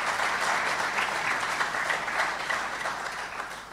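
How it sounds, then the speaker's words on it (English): An audience at a regional address claps steadily and densely for several seconds, a sustained wash of applause from a large hall with no voices over it. "doesn't that deserve a clap to the universities and our people?"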